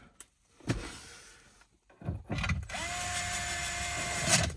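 Electric screwdriver whirring as it drives screws into the glove box panel of a 2004–2008 Acura TL, a few short clicks and a brief buzz, then a sustained close motor whine.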